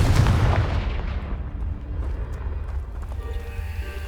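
A Confringo spell blast in Hogwarts Legacy, cast at a pile blocking a stairwell, lands as a heavy booming burst at the start, then rumbles and fades into a quieter decaying tail.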